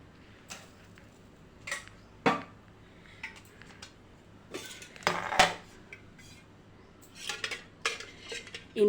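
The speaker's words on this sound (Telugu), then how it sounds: "నేను ఇక్కడ ఇనుప కడాయి పెట్టాను." An iron kadai is set on a home stove before cooking mutton sherva, giving sharp metallic clanks and knocks scattered irregularly over a quiet kitchen background.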